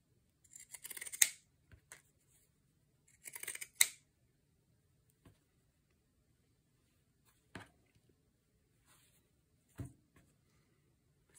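Scissors snip through paper while cutting out a paper reindeer for a Christmas junk journal craft; two quick bursts of close, crisp cuts come early, followed by a few sparse, faint clicks in a quiet room.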